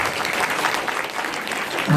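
An audience at a health talk on body fat and immunity gives a brief burst of dense, steady applause, close and continuous, with a voice starting up at the very end.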